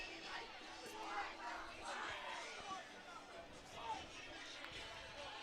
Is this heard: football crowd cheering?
yes